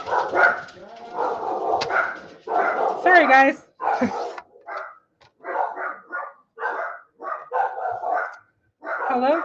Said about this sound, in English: Hello from all my dogs.